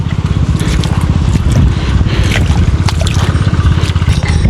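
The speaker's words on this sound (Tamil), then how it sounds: "இங்கே அண்ணன் வந்து நீர் பாய்ச்சி கொண்டிருக்கிறார்." Irrigation water running into a tobacco field, a steady close rush and trickle with dense low churning throughout and no talk over it.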